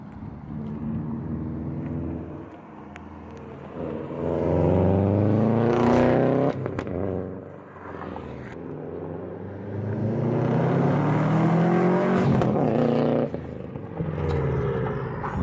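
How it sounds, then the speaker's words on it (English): Subaru WRX fitted with a Tomei turbo-back exhaust revs and drives off, its engine note climbing and falling in repeated pulls, loud and close with a deep rumbling drone and no talking. "we're just trying to get some exhaust clips."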